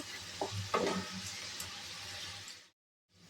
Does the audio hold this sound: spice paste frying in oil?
yes